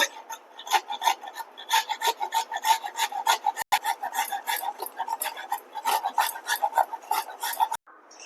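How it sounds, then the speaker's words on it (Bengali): Hard peeled jackfruit seeds rubbed one by one across a metal slicer, a steady run of rapid rasping strokes, close and fairly loud, with two brief pauses and no talk. "এবার আমি সমস্ত বীজগুলোকে স্লাইজারে ঘষে নেব"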